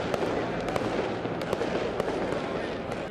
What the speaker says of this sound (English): There are fireworks in the Milan sky and parties already going on across the city.